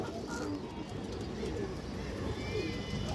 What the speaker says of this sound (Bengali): পুরো ফুল ডাউন শেপের কবুতর